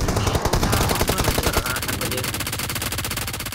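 Rapid automatic gunfire in the mobile battle royale BGMI rattles loud and close, fast evenly spaced bursts that run through the whole stretch, with no voice heard over it.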